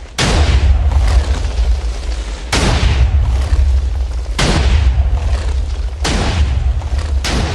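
Heavy booming explosions in Minecraft go off in quick succession, about five loud blasts each trailing into a rumbling roar.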